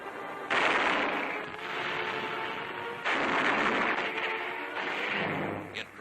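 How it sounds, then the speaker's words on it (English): Continuous heavy WWII mortar and artillery fire from a 1944 Pacific War newsreel, a dense rumbling barrage of overlapping blasts with surging loudness, recorded in old, noisy, band-limited film quality. "Mortar fire is constant, devastating."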